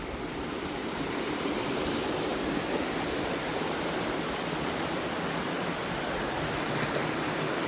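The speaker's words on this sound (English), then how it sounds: "This is one of my favorite streams" A mountain stream flows steadily in a continuous broadband rush of water, close and loud, with no voices over it.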